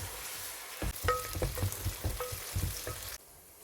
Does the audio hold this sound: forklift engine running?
no